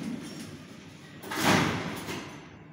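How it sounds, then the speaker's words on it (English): Waygood Otis lift doors slide shut with a swelling rumble and a soft thud near the middle, the elevator doors in poor condition, set against quiet cab hum. "Watch here, the doors close."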